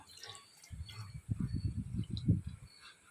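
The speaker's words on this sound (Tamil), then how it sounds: "தேங்காய் பால் எடுத்து வச்சுருக்கேன் நான் பால் இதில் ஊற்றிடலாம்" Coconut milk pours into a mixer jar holding drumstick juice, a soft, close gurgling splash that runs for about two seconds in a quiet kitchen.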